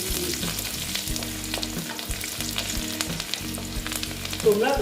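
Chopped garlic frying in a pan, a constant crackling sizzle close by with a low hum underneath and a brief louder stir near the end.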